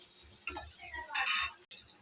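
Cashew and almond paste cooking in hot oil for chicken curry, a soft sizzle with close spoon scrapes and light clinks of utensils against the pan in short bursts.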